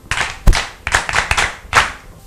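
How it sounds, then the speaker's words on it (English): A classroom group claps for a student who answered correctly, several quick irregular bursts of hand claps, close and fairly loud, without talk. "Good, clap for him."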